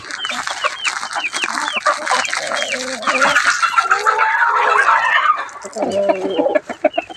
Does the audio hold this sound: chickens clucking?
yes